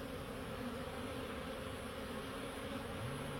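Honey bees buzz in a steady, dense drone around a hive during colony reinforcement, a continuous close swarm hum with no talking.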